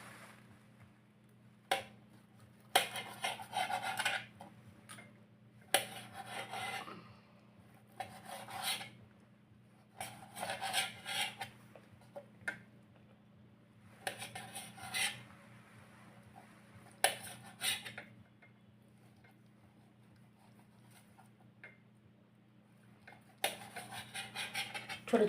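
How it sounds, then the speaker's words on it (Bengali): Boiled chital fish dumplings cut into small pieces, a knife scraping and tapping on a board in short repeated bursts separated by quiet pauses, over a low steady hum. "এই যে ছোট ছোট করে পিস করছি।"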